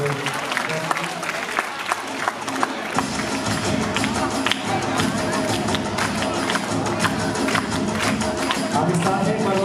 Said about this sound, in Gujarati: ખૂબ બધી તાળીઓ થવી જોઈએ